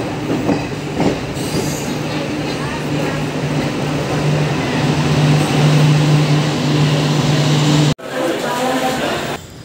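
A passenger train rolls into Kalyan junction on the Mumbai–Hyderabad route, a loud steady rumble of wheels on rails with a sustained squealing tone near the track, cut briefly near the end.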